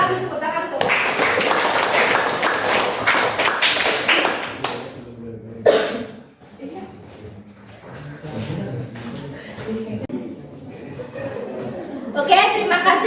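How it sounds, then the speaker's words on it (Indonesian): A high school class gives a burst of lively clapping after a group presentation, lasting about five seconds before fading into chatter, laughter and a few scattered claps as voices take over. "Silakan tepuk tangan tuh."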